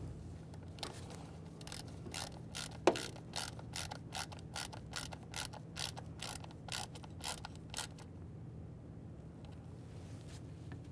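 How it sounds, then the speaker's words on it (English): A ratchet clicks in a steady rhythm, tightening the plastic-threaded mounting bolt of a MAP sensor on a 1998–2011 Ford Ranger 2.3L four-cylinder; close and moderately loud, easing off near the end, with no speech. "Start in your mounting bolt and snug it up."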